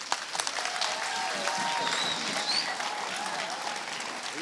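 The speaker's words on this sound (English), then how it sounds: "Let's give one last final round of applause." Steady applause from an audience at a middle school awards and eighth grade promotion ceremony, a broad wash of clapping that holds for several seconds, with a few whoops and faint voices mixed in.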